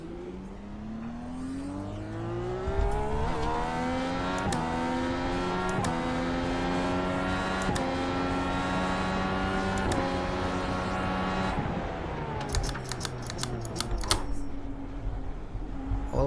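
Dallara IR18 race car engine in the iRacing sim, revving hard and holding a loud, sustained high-pitched drone with rising and falling pitch through repeated upshifts and downshifts, steady and close throughout, with no talking.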